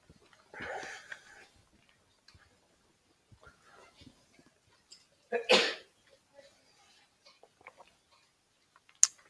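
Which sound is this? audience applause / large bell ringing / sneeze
sneeze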